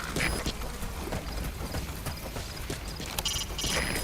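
Horse hooves clop steadily beneath a dense wash of video game music and ambience while riding on horseback, the footfalls partly masked throughout.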